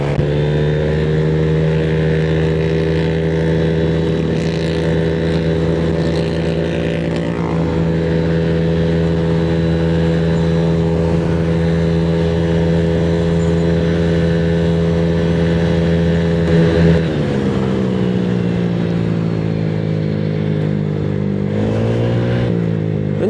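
Honda Click 175cc scooter with 14T touring gearing at high speed, its engine a loud steady drone near the mic, rising and settling with the throttle, with a brief dip and pitch change about two thirds through.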